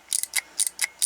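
Plastic Minions Kevin McDonald's Happy Meal toy holding a jackhammer, pressed down to make a rapid sharp clicking meant to mimic a jackhammer; five short ticking bursts in a quick, uneven rhythm, close and clear with no talk.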